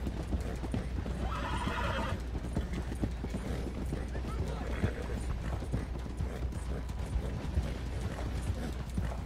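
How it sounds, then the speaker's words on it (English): Horse hooves clip-clopping at a steady gallop in the video game Red Dead Redemption 2, with a neigh near the start, continuous over a constant low rumble of game ambience. "Holy cow, this horse is not going with me."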